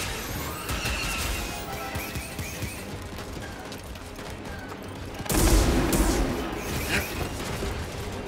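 Grenade blasts and gunfire in the Star Wars Jedi: Fallen Order video game, a dense, loud battle din with a sharp explosion burst midway and another crack shortly after.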